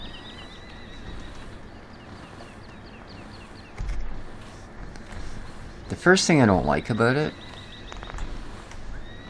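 Horses neigh on a looping audio track at a mill pond, one loud whinny standing out over faint hoofbeats and background noise while someone talks nearby.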